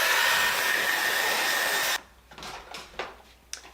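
A hair dryer roars steadily for about two seconds, drying adhesive on lace wig pieces, then shuts off, followed by quiet handling noises and light scraping.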